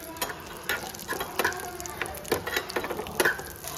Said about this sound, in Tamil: முந்திரி திராட்சை நெய்யில் வறுத்து இதில் போட்டுக்கிறேன்